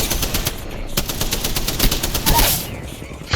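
Rapid bursts of automatic gunfire crackle in quick succession in the Revenant video game, loud and close, with sharp individual shots packed into a dense fusillade and no talk over it.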